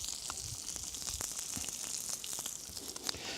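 Potato patties sizzling in a hot pan, a steady close crackle with scattered pops and spits, no talking.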